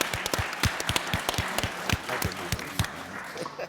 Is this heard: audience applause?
yes